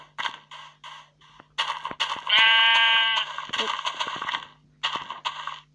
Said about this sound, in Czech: No tady takhle u těch ovcí.